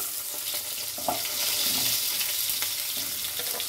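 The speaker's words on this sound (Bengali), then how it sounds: "এগুলোকে আমি একটু ভালো করে লাল লাল করে ভেজে নেব।" Pieces of pumpkin and pui shak (Malabar spinach) stalks frying in oil in a pan, a steady close sizzle throughout with light stirring scrapes.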